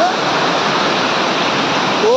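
Heavy, steady roar of Srabani waterfall in the forest near Nayagarh pouring continuously in rainy weather, loud and close, with a brief whistle-like tone near the start and end.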